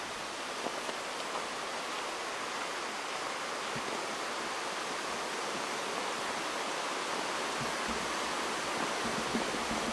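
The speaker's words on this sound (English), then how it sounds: "Over here is a nice waterfall." Waterfall in a snowy New Hampshire stream area, heard as a steady, dense broadband roar of rushing water that holds constant and fairly close for the whole stretch, with no voices.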